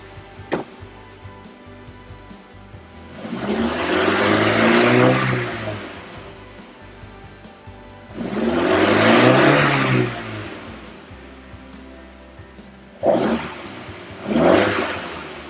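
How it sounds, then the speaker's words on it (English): A car engine is revved three times, each rev swelling to a roar then dropping back to idle, with two quick blips at the end. "So if I go and give the engine a bit of a rev"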